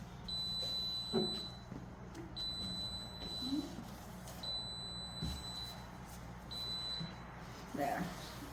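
A kitchen cooktop gives four long, evenly spaced electronic beeps about every two seconds while a burner is wiped, with soft rubbing and handling noises underneath.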